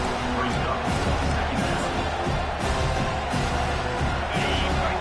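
Stadium crowd noise from the College Football 25 video game swells into a loud, steady roar with faint cheering as the home fans try to rouse the defense for a red zone stop.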